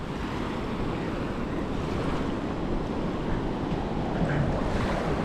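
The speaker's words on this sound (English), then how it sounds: "This is the lovely beach of Hulhulmalé." Ocean waves roll onto the beach at Hulhulmalé in the Maldives, a steady broad wash of surf mixed with wind buffeting the microphone, continuous and moderately loud with no voices.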